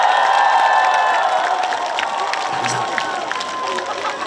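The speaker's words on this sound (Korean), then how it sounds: "큰 박수 한번 넣어주시겠어요?" Outdoor concert crowd at a park celebration cheers and applauds loudly and steadily after a trot song, a dense wash of clapping and shouting that fades slightly toward the end.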